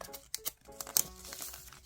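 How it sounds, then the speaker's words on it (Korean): Plastic wrapping crinkles and tears as it is peeled off a pair of illustrated postcards at a desk, with close, irregular crackles and a few sharper rips. "비닐을 벗기고 보여드릴게요"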